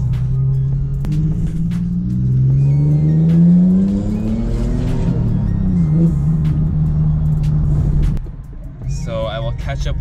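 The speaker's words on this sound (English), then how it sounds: "I don't know why there's such heavy traffic right now." Car engine droning and revving up while driving a Ranger through heavy traffic, a steady close rumble that rises in pitch and falls, with a person talking over it and a brief clatter near the end.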